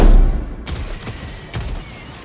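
Rapid autocannon fire in the co-op shooter Helldivers 2, a loud booming burst at the start followed by a few sharper reports trailing off amid battle noise.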